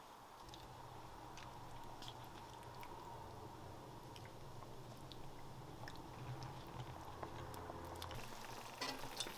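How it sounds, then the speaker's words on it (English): Sculpin fish pieces dropped one by one into a pot of boiling seasoned water for Sichuan boiled fish, with a continuous bubbling sizzle and a few soft splashes and clinks over a steady low rumble. "the key here is to drop the fish one by one into that boiling water with that seasoning"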